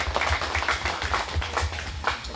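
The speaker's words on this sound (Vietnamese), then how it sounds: "hôm nay chúng ta nổ một tràng vỗ tay để chúc mừng thành tích của giáo họ chúng ta" A church congregation at a parish celebration gives a round of applause: dense, steady hand-clapping from many people with irregular sharp claps throughout, moderately loud and close.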